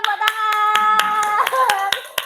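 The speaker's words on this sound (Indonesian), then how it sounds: "Yang juara pertama adalah Rifai, tepuk" A classroom of pupils claps for the first-place winner: a run of sharp, uneven hand claps over about two seconds, mixed with voices and chatter.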